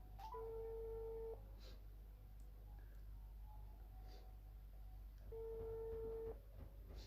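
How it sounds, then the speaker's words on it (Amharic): Two long ringback tones of a phone call ringing on the line, each lasting about a second, separated by a few seconds of quiet hiss, heard clearly with no talk. "እየጠራ ነው ስልኩ።"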